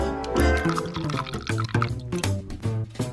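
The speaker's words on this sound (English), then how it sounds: "Finally, I can pour it into bowls." A sweet liquid base poured steadily into miniature bowls, with gurgling and splashing that shifts in pitch as the vessel fills, close and fairly loud, no talking.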